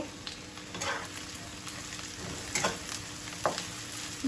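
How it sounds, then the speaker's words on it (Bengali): Onion and garlic fry in hot oil for a village-style dish of small taki fish fry, giving a steady, moderate crackling sizzle with scattered sharper pops and spatters throughout. "তেলটা গরম হয়ে গেছে আমি পেঁয়াজ রসুনটা দিয়ে দিলাম"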